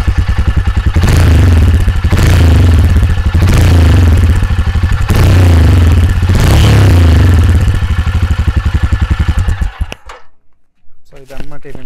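A Royal Enfield Himalayan's long-stroke engine thumps steadily at close range, a loud rhythmic idle with a low pulsing beat that cuts out abruptly near the end, while a voice talks over it.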